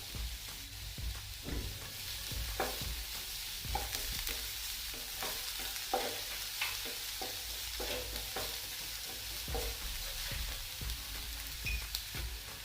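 Cabbage, capsicum and green chillies stir-fried in a pan, with a steady sizzle and frequent scraping clicks of a spatula, close and continuous with no talking.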